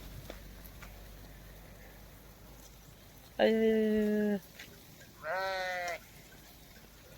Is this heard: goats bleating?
yes